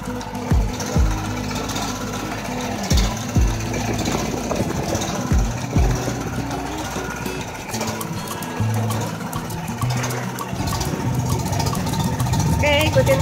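A boat engine chugs at idle with a steady low rumble, joined by water sounds and occasional voices, at Ancol, Jakarta.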